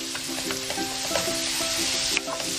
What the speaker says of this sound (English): using the same pan, let's saute up our garlic